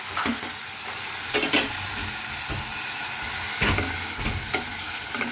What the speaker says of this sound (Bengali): টমেটোটা দিয়ে আবার একটু নাড়াচাড়া করতে হবে বেশ কিছুক্ষণ ধরে, মিশে যাওয়া অবধি